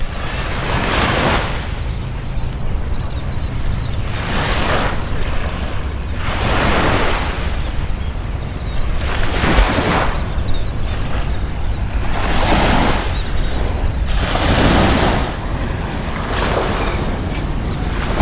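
Surf from the Gulf washes in at Alabama Point Beach in steady, broad surges every couple of seconds, mixed with constant wind buffeting the microphone; no voices are heard.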